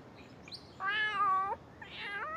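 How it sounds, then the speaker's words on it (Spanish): Several kittens meowing in turn, one long drawn-out mew followed by a shorter one, fairly close and clear against a quiet background. "And look, lots of little cats."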